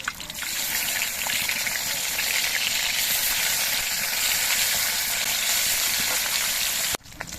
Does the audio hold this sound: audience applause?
no